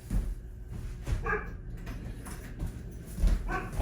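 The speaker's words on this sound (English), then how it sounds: "she's just gonna sit out there and bark at the world" A dog outdoors barks in a few sharp, separated bursts, with whimpering yips between them, at moderate distance against a quiet yard background.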